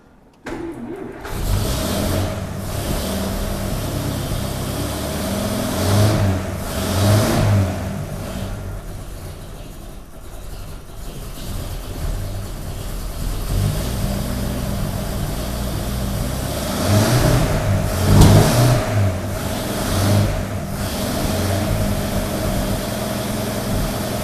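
A 1932 Nash 990 engine, freshly tuned up, cranks and catches, then runs with loud repeated revving surges across the stretch, settling between blips.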